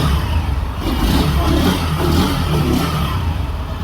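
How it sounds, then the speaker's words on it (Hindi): A Bajaj Pulsar N125 motorcycle engine runs at a steady, loud idle close by, a continuous low throbbing hum with no talking. "इसकी सेल्फ स्टार्ट देखेंगे कितना स्मूथली सेल्फ स्टार्ट होती है भाई"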